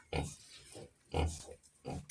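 Sows and piglets grunt in short, close bursts, three or four throaty clusters separated by brief pauses, loud and near with rustling between.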